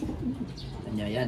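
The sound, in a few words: pet racing birds eating moringa leaves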